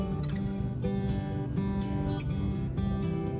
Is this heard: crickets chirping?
yes